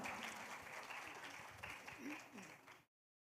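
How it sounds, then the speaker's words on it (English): An audience at an international English language teaching conference claps for a professor, a steady wash of applause that holds for nearly three seconds and then cuts off abruptly. "please give round of applause to Professor Paul McBride"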